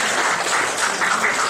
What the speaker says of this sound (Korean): 큰 박수하도록 하겠습니다.